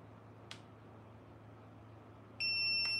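Electronic beeping from a coffee machine as it heats up, a short tone burst that turns into a loud, sustained multi-tone beep near the end over a steady low hum.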